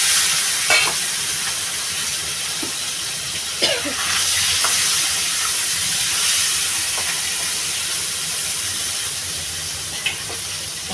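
Singhi fish rubbed with salt and turmeric frying in hot oil: a loud, continuous bright sizzle and hiss with occasional faint clinks and stirring scrapes.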